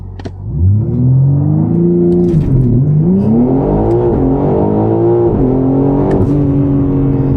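A BMW G80 M3 launches hard on fairly cold tires, its engine roaring loud and close, revs climbing repeatedly with brief dips at each upshift and a steady strained drone throughout.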